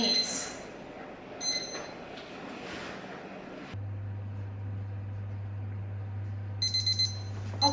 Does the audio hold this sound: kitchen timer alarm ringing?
yes